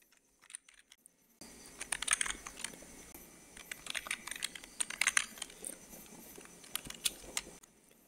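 After a brief near-silent start, CSS code is typed on a computer keyboard in rapid, irregular clusters of crisp clicks, close and fairly loud, with short pauses between bursts and no speech.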